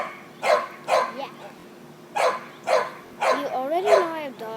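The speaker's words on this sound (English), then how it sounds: "he's our neighbor's dog, barking at me because he wants to lick it" A neighbor's dog barking, sharp repeated barks in uneven bursts, fairly close, ending in higher whining yips, with no talk over them.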